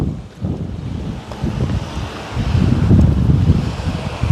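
Strong wind buffets the microphone on a golf course near water, a steady low roar with rising gusts over several seconds and no talking.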